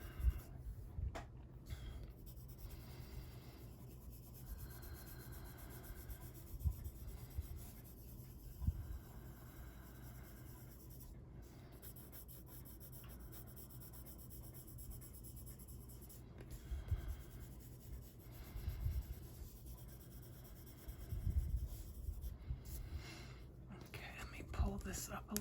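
Prismacolor colored pencil rubs across paper while coloring skin tones, a faint, continuous scratchy scribbling with soft quiet talk over it.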